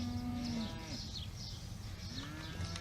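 Cattle just unloaded from a truck moo several times, a drawn-out low call followed by more lowing and bleating-like calls from the herd, moderately distant and fairly quiet, with no talking.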